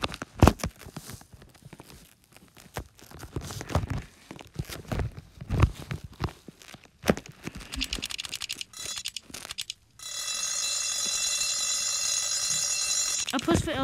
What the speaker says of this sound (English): It's just the alarm turning on.